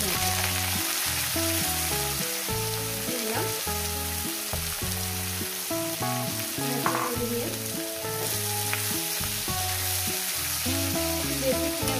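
Sliced onions and dried shutki fish frying in hot oil outdoors by a riverside, a continuous dense sizzle with rhythmic scraping and stirring of a utensil against the pan, close and loud, no voices.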